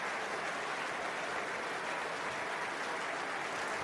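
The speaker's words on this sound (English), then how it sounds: "a round of applause for Scott Wilson" Rugby stadium crowd at a Premiership semi-final applauds an injured player, with steady, dense, sustained clapping filling the whole stretch from a distance and no break in it.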